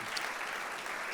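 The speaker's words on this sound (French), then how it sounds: "Est-ce qu'on peut applaudir sa femme et ses enfants?" A church audience applauds for a visiting speaker's wife and children, a dense steady wash of clapping filling the whole short stretch with no voices on top.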